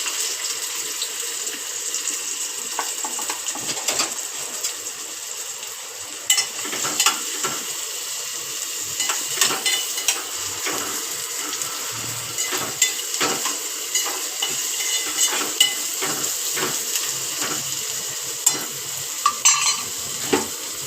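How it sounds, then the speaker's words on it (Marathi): Onion and curry leaves frying in a pan, with a steady hiss of sizzling oil and repeated scraping and clinking stirs throughout, close, moderately loud, with no voices. "कांदा लाल व्हायला पाहिजे."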